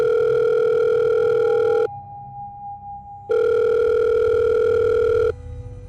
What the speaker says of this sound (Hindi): तभी उसकी अम्मी का फ़ोन आया